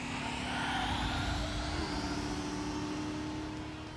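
A turbocharged engine revs in Trails through Daybreak, a strong whirring, rising engine tone with a climbing turbo whine. It sounds alone and steady, then eases off slightly near the end.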